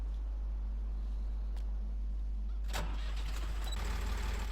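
A low, steady mechanical hum, then a tractor engine cranks and catches partway through, settling into a loud running rumble.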